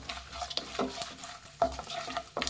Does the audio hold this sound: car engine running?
no